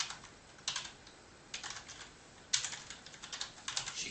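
Keys clatter on a computer keyboard in slow, irregular bursts while someone writes a C++ calculator program, the clicks close and fairly loud with short pauses between clusters.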